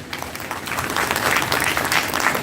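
Loud audience applause welcoming a professor at a conference on India's financial markets. Dense, close clapping from a hall full of people builds slightly and stays strong for the full couple of seconds.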